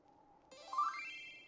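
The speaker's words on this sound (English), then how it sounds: "So it's the sound of like when I get mail." A short Final Fantasy mail notification tone plays from a phone, a bright rising electronic chime that swells and sustains clearly on its own.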